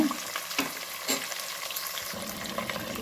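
Onions and tomato frying in a pan for a bitter gourd saaru, a steady close sizzle with a few scraping stirs of a spoon, no voices.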